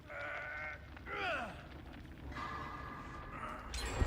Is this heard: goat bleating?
yes